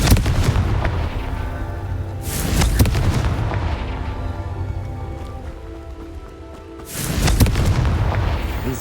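A Confringo fire spell in Hogwarts Legacy explodes with loud, deep booms: one burst near the start, another around the middle and a third near the end, each trailing into rumbling crackle, with no talk.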